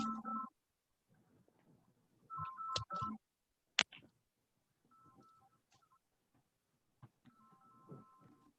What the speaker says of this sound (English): I'm going to turn that alarm off.